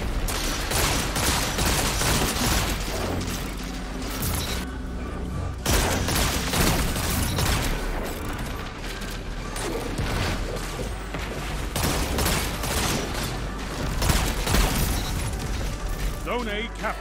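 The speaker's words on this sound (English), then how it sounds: "I'm trying to use this hand cannon." Repeated hand cannon shots from a first-person shooter video game, firing in a dense run over continuous loud game sound effects, with a voice talking through it.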